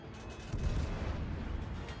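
Heavy battleship shells slam into a ship in World of Warships, a loud cluster of booming impacts swelling at about half a second and rumbling on through the rest of the moment.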